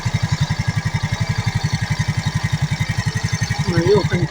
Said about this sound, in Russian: Вот так вот гудит мопедосик.